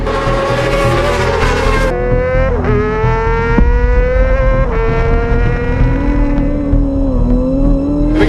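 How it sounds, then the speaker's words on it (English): A Honda 600cc racing motorcycle at the North West 200 road race screams past loud and close. Its high-pitched engine whine rises and falls through quick gear changes, with a sharp wail as it passes. "Wheeling that 600cc motorcycle past Lee Johnston."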